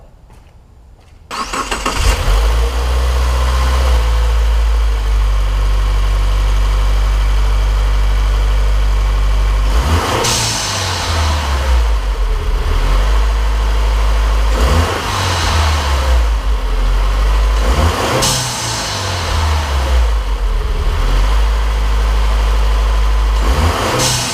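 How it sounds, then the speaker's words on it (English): 2015-2017 Subaru WRX engine fitted with a Go Fast Bitz blow-off valve starts and runs loudly up close, with repeated revs each followed by a sharp whooshing valve release, roughly four cycles in steady rhythm. "So you guys are literally right under the blow-off valve. You guys are gonna be hearing it much better than I am."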